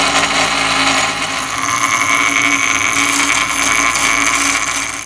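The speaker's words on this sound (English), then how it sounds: "a lot of times you just have to grind a little bit." A power tool grinds steadily on a brake pad, trimming the pad so it fits into a brake caliper; a continuous, loud, even whine runs throughout with no talking.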